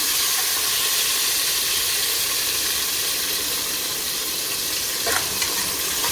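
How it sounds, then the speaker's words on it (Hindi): Ingredients for Qabli pulao fry in hot oil, giving a steady, dense sizzle and hiss that runs unbroken and fairly loud, with a faint clink near the end and no talking. "इनको तकरीबन कोई 20 सेकंड के अंदर ये फ्राई हो जाती हैं।"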